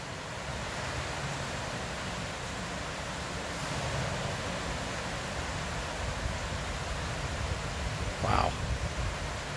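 Floodwater pours in at the Fairmount Water Works, a steady broadband rush like surf that fills the whole clip at a moderate, unbroken level, with a brief louder splash near the end.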